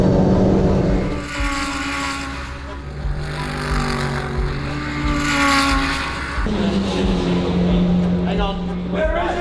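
A race car at a Phillip Island endurance race sweeps by, engine roar building then fading as it passes, loud and close, with someone talking over it.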